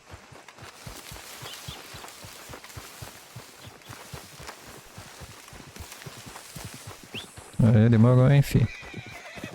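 A horse in Red Dead Redemption 2 clip-clops in a steady rhythm of hoof beats, then lets out a loud, close neigh near the end, while someone talks briefly over it.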